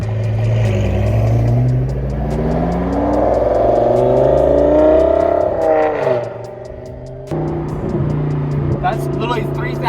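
A powerful car engine revs and rises in pitch with a deep, throaty exhaust, then drops off before idling again, with voices talking over it.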